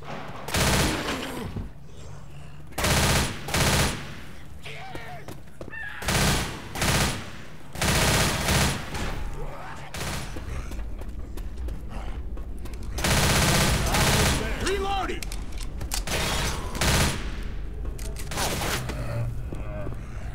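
Bursts of gunfire from a weapon in the zombie shooter game Left 4 Dead, the Blood Harvest campaign tunnel, with repeated loud volleys and rapid fire separated by short gaps, over continuous game ambience.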